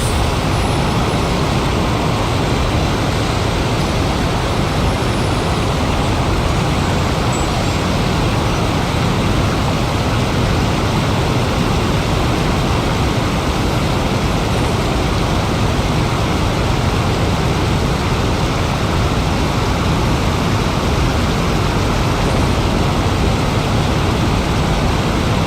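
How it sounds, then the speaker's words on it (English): A water jet rushing in Genshin Impact, a steady, loud, broadband roar that holds constant without pause for the whole span, with no talk. "Water jet!"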